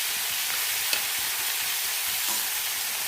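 Cauliflower frying in a pan with salt and turmeric, giving a steady, close sizzle and crackle that runs the whole time with no voices.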